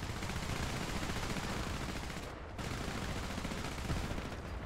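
Sustained gunfire in War Thunder forms a dense, continuous rattle of shots that pauses briefly midway, then resumes at steady loudness.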